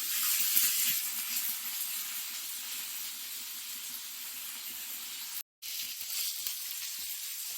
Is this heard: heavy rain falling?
no